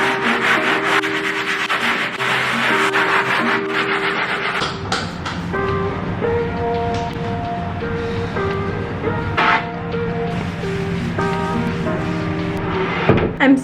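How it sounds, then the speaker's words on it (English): Sandpaper is worked by hand over wooden furniture that came with a college apartment room: loud, continuous rasping strokes with steady tonal sounds running underneath. "And then I need to sand this down."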